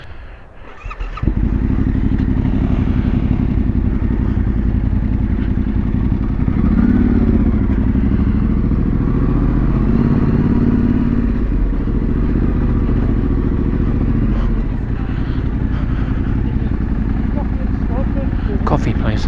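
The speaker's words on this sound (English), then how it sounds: "we've got a flooded KTM" A flooded KTM motorcycle engine runs loud and close for nearly the whole stretch, a steady rough drone after a brief quiet start, with slight changes in pitch partway through.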